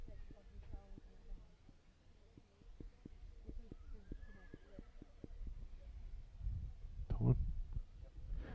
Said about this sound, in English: That's lot number 41, a 2016 Chestnut Gelding, BKL Lonesome.